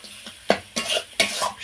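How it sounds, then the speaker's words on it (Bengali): A spice paste is being stir-fried in a pan for an egg curry, giving faint sizzling under several soft scraping strokes of a spoon against the pan, in short separate bursts. "আমি এই মশলাটা বেশ আরও কয়েক মিনিট এইভাবে কষিয়ে নেব"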